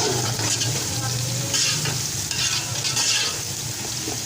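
Finely ground garlic and ginger paste is stirred into onions frying in oil for chicken nargisi pulao, giving a loud, close sizzle with a steady scraping of the spoon.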